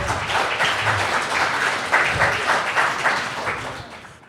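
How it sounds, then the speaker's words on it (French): Bar audience at a comedy night applauding a performer's mother, a dense wash of clapping that carries steadily for several seconds before tapering off, with faint voices mixed in. "Ma mère, la première femme chip, on peut l'applaudir."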